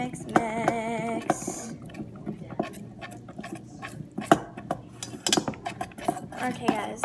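Pigment being stirred into slime gives a string of irregular close-up clicks, taps and squelchy smacks, quiet apart from scattered sharper knocks.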